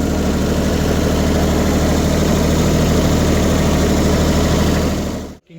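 A tractor engine idles steadily at a farm, a loud close low rumble with constant vibration lasting several seconds before cutting off abruptly at the end, no talking.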